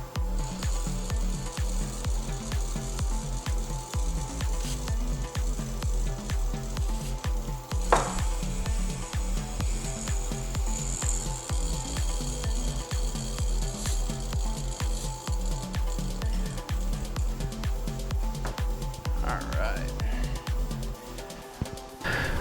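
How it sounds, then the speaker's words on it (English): A go-kart rear axle spins against its bearing while Tri-Flow lubricant is sprayed in, making a loud, continuous rapid ratcheting clatter with a hissing spray layered over it. No one speaks. "I'm gonna spin the axle and I'm gonna try to shoot some lubricant in between the axle and the rear bearing"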